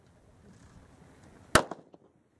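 A single sharp pistol shot cracks out at an outdoor long range shooting session aimed at a target 240 yards away, loud and close, followed by a brief echo that trails off into quiet.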